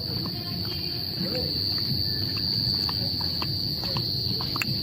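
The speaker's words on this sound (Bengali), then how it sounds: "তবে একটা ঝিঝি পোকার অদ্ভুত ধরনের শব্দ ভেসে আসছে।" Crickets near a sea beach at dusk: a steady high, continuous insect trill over a low rumble of surf and wind, with faint scattered ticks and no talk.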